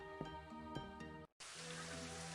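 Rain in the Elder Scrolls 2 video game, with soft game music tones at first, then a brief drop to silence followed by a dense, steady hiss of rainfall filling the rest.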